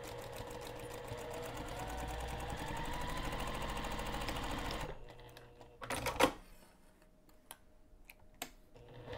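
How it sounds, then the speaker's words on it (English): A sewing machine runs slowly through a curve on a padded backpack strap with a close, continuous stitching rhythm, then stops, leaving scattered clicks and handling noises. "as I'm sewing through the curve, I'm sewing slowly and just keep, if you can, the fabric moving"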